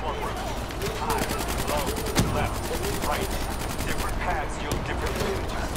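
Rapid automatic gunfire in a shooting game, a dense steady rattle of evenly spaced shots running throughout at close range, with one sharper loud crack midway and voices faintly underneath.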